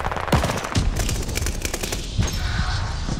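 Rapid machine gun fire in Call of Duty: Vanguard, a dense string of sharp loud shots with a few heavier cracks mixed into continuous bursts.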